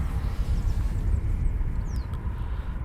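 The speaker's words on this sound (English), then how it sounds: "Hopefully more Typhoons. Yes, you can hear them running." Eurofighter Typhoon jets running at RAF Coningsby, a steady broadband engine roar with a low rumble, heard from a distance and continuous throughout, with no voices.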